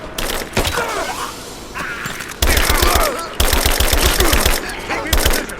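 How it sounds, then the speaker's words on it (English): Covering gunfire in Rise of the Tomb Raider, loud bursts of automatic weapons rattling in fast rhythmic strings, broken by short pauses, with distant shouted combat calls mixed in. "Laying down covering fire!"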